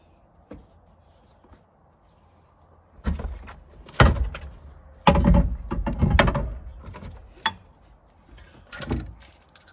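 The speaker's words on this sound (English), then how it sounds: "Next, we will put the tire in and screw it in" Spare tire being fitted and screwed onto its mount under a 2021-2025 Toyota Sienna minivan, with scattered metallic clunks, scrapes and ratcheting bursts, some loud and close, separated by brief quiet gaps.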